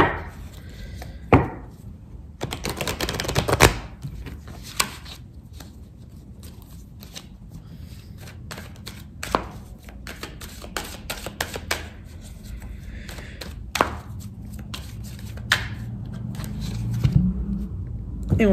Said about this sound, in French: pendant que je bats les cartes